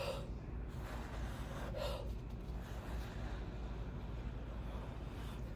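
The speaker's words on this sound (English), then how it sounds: "I wanna blow through the paints" Breath blown through a straw or the lips onto wet watercolour paint, soft airy puffs and a steady rush of breath close up, quiet, with no talk.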